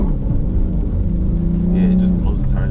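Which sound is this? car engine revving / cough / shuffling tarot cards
car engine revving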